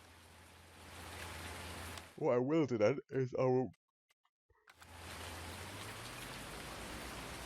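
Steady rain in a video game, a dense hiss that runs for about two seconds, breaks off while someone talks over a brief lull, then resumes just as loud to the end.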